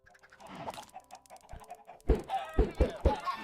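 Chickens in a video game cluck in a series of short, clipped calls, faint at first and then several louder bursts close together near the end.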